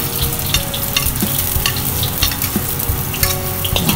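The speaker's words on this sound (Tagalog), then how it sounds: "And kapag mainit na yung mantika, igigisa na natin yung onion and garlic." Onion sautéing in hot cooking oil for Singapore-style stir-fried noodles, a steady close sizzle and crackle with occasional stirring scrapes, continuous and loud with no talk.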